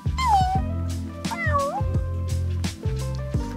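A cat meows twice with rising and falling cries, loud and close, over a steady low hum in the background.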